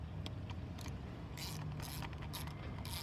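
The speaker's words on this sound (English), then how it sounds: "you just thread the nozzle back in" SolaBrush nozzle being threaded back in by hand, faint scratchy clicks and rasps in short bursts over a quiet background.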